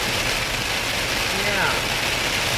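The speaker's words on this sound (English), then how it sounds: "Not really a fan of driving in the rain." Rain drums on a car moving along the road, a dense, even hiss of drops over a low engine and road rumble, heard from inside the cabin.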